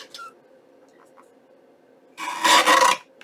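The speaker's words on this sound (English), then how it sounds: "So I'm going to trim it over here" A blade of a paper trimmer slides through paper in one close, short rasping cut lasting under a second, after a quiet stretch with faint handling.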